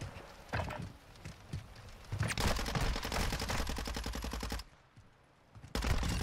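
Submachine gun fire in a Call of Duty match crackles in short bursts, building to a long, loud, rapid stream of shots that cuts off briefly before one more burst starts at the end.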